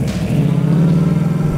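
A 1969 Chevrolet Camaro RS/SS 502 Pro-Touring big-block V8 rumbles loud and close in a brief burst, a deep throbbing exhaust note holding steady with a slight pulsing lope.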